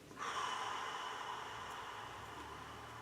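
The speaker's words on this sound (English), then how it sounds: "Exhale for 8." A long, slow exhale during a relaxing breathing exercise starts abruptly and continues as a steady, airy breath close to the microphone for about three seconds, with no speech.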